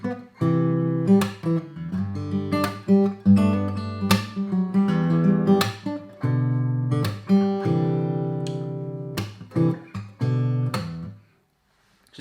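Acoustic guitar strums a pop chord progression at a quicker tempo, with steady rhythmic strokes and repeated chord changes, close and clear with no talking, ending in a short silence.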